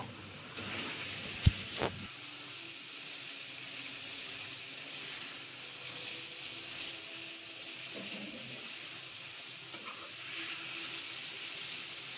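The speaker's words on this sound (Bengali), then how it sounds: "মাছ দেওয়ার পরে এবার মাছগুলোকে খুব সুন্দরভাবে মশলার সাথে মিশিয়ে নেব।" Baim fish being tossed with spices in a hot pan, giving a steady, even sizzle with a light hiss throughout. One sharp clink sounds near the start; no voices.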